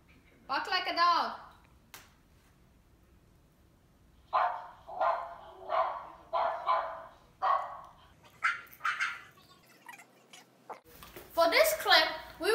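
An Alexa smart speaker plays recorded dog barking indoors, producing a steady run of repeated barks. A single bark comes first and a louder burst follows at the end.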